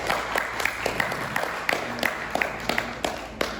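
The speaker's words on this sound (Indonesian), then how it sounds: "Berikan tepuk tangan yang meriah" Audience applause at an Indonesian Islamic talk on marriage, a moderate burst of clapping from a seated crowd, fairly close and steady for a few seconds.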